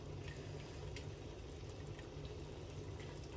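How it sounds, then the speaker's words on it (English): Excess water draining from a freshly boiled lobster, a soft continuous trickling and pouring sound, faint and steady with no talk. "Just waiting for the excess water to drain out."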